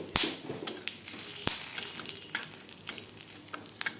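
White cumin seeds crackle and sizzle in hot oil with whole garam masala and dried red chillies for a vegetable dal, as a continuous fry broken by sharp clicks of a utensil against the pan.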